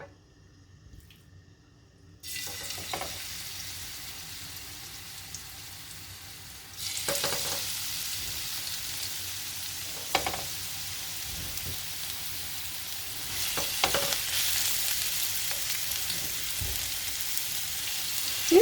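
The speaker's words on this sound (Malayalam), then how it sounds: "ഇനി നമുക്കതൊന്ന് ഫ്രൈ ചെയ്തെടുക്കാം." Marinated prawns sizzle and crackle in hot oil in a frying pan, a steady frying hiss that swells louder after a quiet start, with occasional pops and stirring scrapes throughout.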